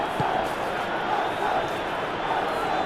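A dense stadium crowd at a football match in a Master League video game fills the clip with a steady, loud roar of chanting and cheering, unbroken from start to end.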